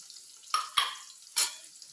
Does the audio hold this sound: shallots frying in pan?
yes